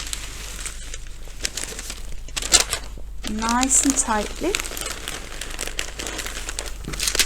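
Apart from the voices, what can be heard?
roses being wrapped in crinkling brown paper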